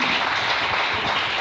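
Church congregation applauding and cheering in praise of the Lord, a dense, steady wash of clapping that fills the room for its full length without any speech.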